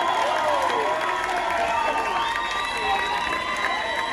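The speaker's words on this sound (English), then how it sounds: "Clap your hands for yourself." A live concert audience in Brighton claps and cheers loudly and steadily after a rock band's final song, with whistles and shouts rising over dense applause.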